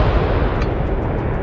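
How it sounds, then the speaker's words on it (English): Drone-struck military carrier exploding, a loud, sustained roaring blast with dense low rumble filling the whole moment, no voices. "A massive explosion followed."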